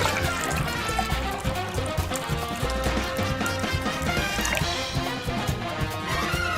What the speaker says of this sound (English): Next is fill the Ziploc bag with water.